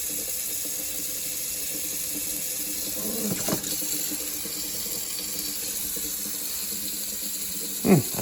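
A kitchen sink tap runs steadily in a house with low water pressure, with brief sputters of air bursting through near the middle and again near the end.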